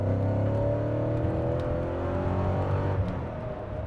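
A Porsche 928 GT engine revs and drones loudly with a rising, gliding pitch, close by, tapering off slightly at the end.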